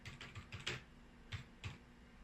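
Short bursts of keystrokes on a computer keyboard, a quick cluster of clicks followed by a couple of separate taps, close and fairly quiet with no voices.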